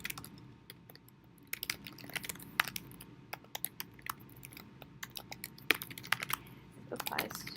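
Steady typing on a computer keyboard, with irregular clusters of sharp key clicks continuing throughout, close and fairly quiet, with occasional faint voice in the background.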